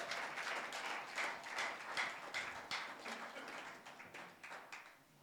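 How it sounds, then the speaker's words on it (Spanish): A church congregation claps loudly for the Lord during a Spanish-language service, many hands beating in a fairly steady rhythm. The clapping sounds somewhat distant and quiet, with a faint murmur of voices underneath. "Dale fuertes palmas al Señor."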